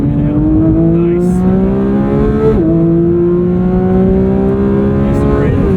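A Porsche 911 accelerating hard on a race track, its engine note loud and close in the cabin, climbing steadily with a quick dip at a gear change before rising again.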